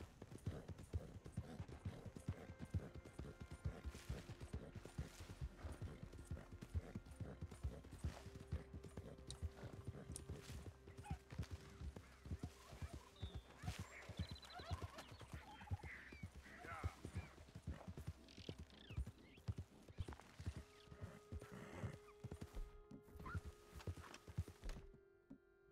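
In the Red Dead Redemption 2 game, a horse's hooves clip-clop at an even walking pace throughout, soft and continuous, with faint ambient background beneath.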